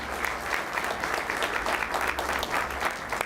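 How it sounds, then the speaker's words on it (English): A round of applause from a crowd at a county board meeting, steady clapping sustained throughout at moderate volume. "So everyone, please give Kellogg a round of applause."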